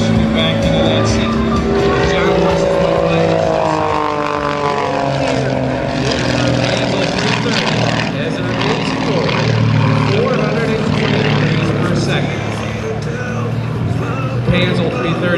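Panzl 330 aerobatic propeller airplane with wooden wing and fabric tail performing at an airshow, a continuous droning engine that rises and falls in pitch under an announcer's amplified commentary.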